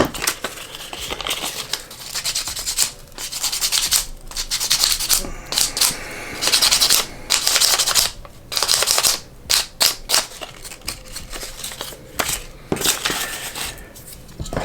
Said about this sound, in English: nice like Bondo effect with it too when you sand it down